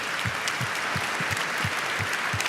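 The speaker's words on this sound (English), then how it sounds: "a round of applause for all the panels we've seen" An audience at the Austrian World Summit applauds the panels with a thick wash of clapping, while low thumps recur in a steady beat beneath it.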